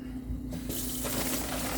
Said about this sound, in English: even though these bags are going into the trash, I still rinse them out